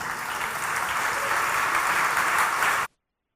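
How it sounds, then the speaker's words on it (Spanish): Congregation applause welcomes a speaker, a steady crowd of clapping hands filling the space for a few seconds before cutting off abruptly into silence. "Recibámosle con un aplauso"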